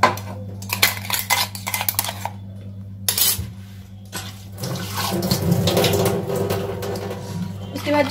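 Water is poured into a leftover mixer-grinder jar to rinse out the remaining paste in a home kitchen, with clinking dishes and cutlery at first, then a sustained splashing, running-water wash.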